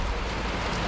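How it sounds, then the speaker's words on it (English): Rain beginning to fall outdoors after servicing a Honda EU2000i generator, a steady broadband hiss of drops on surfaces, fairly loud and continuous with no voices. "now the rain's coming"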